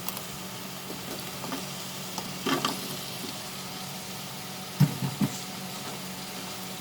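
Potatoes sautéing with spices in a pan for ghugni, a low steady sizzle with a few soft stirring knocks and scrapes near the middle and toward the end, no voices.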